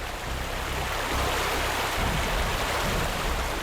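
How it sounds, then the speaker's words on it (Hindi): A waterfall gives off a steady, loud, broadband rush of falling water that fills the whole stretch without pause. "सामने देखो, वाटरफॉल कितना सुंदर है ना"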